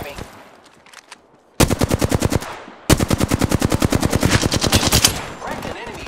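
Ballistic's weapons in Apex Legends on the Olympus map: two long bursts of rapid automatic fire, loud and close, the second longer, separated by a brief quieter pause with faint game sounds.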